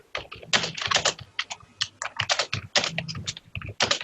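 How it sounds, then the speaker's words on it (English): Fingers type on a computer keyboard in irregular bursts of close, clicky keystrokes with short pauses between runs, heard alone without talk. "What's the sound? Keyboard."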